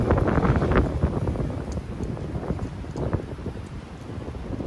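Strong gusty wind of around 25 mph blasts across an outdoor disc golf course, buffeting the microphone with loud, rumbling roars that rise and fall in waves.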